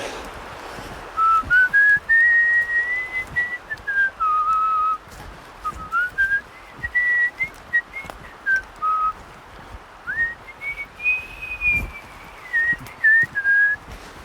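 A person whistles a wandering, unsteady tune in short phrases with pauses between, fairly close, with faint outdoor rustling and a few soft knocks.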